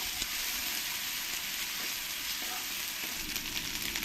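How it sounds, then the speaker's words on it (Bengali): Onion and ginger-garlic paste sautéing in a pan for ghugni, a steady close sizzle running throughout with a few faint stirring touches, no voices. "পেঁয়াজটা দিয়ে ভালো করে আমি এই পেঁয়াজের সঙ্গে একটু কষিয়ে নেব"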